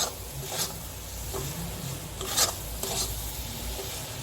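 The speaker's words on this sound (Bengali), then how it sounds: "আরো 2-1 মিনিট এইভাবে নেড়ে নেব যাতে পুরোটা শুকিয়ে যায়।" Grated coconut being stirred in a pan to dry it out for coconut bhapa sandesh, a steady scraping, rasping rub with a few louder strokes, close and moderately loud with no voices.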